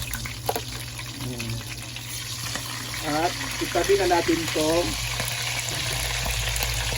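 Steady hiss and crackle of chicken legs frying in oil, continuous throughout, with a voice speaking over it.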